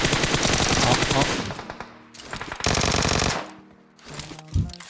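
Rapid automatic gunfire from PUBG Mobile rattles in loud bursts with brief pauses between volleys, layered over background music.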